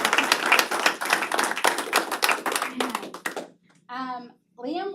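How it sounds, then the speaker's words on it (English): A school board meeting audience claps for a student, with dense, fairly loud clapping that runs for about three seconds and then fades out, followed by a short burst of speech. "Let's clap for Liam."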